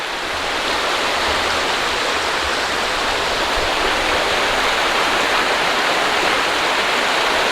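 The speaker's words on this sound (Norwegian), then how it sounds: "og elva er så fin." A river rushes steadily on a sunny summer day in Nordmarka, a loud, close, unbroken wash of flowing water with no other sounds standing out.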